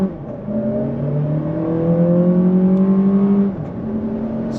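A 2023 Lexus RX 500h F Sport accelerating hard in sport mode, engine tone climbing steadily with smooth upshifts dropping the pitch, heard from inside the cabin without talk.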